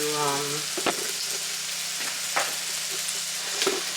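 A stir fry sizzles steadily in a hot pan on the stove, with a constant broadband hiss and a few sharp scrape-like stirring bursts spaced a second or so apart, close and fairly loud, no voices.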